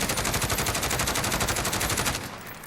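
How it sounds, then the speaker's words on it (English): A SIG SG 550 assault rifle in Call of Duty Modern Warfare fires one loud, rapid, unbroken automatic burst of about two seconds, then a short fading tail as the shooting stops. "So what I'm going to do is just let this rip and not control the recoil."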